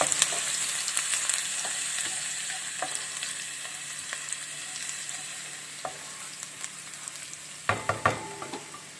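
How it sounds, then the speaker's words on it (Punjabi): Ginger roasting in oil in a pan for baingan bhartha on a medium gas flame, giving a steady bright sizzle throughout with scattered spoon scrapes and a cluster of louder clanks near the end, close. "ਅਦਰਕ ਪਾਵਾਂਗੇ ਥੋੜੀ ਦੇਰ ਇਹਨੂੰ ਰੋਸਟ ਕਰਕੇ ਜ਼ਿਆਦਾ ਭੁੰਨਣਾ ਨਹੀਂ"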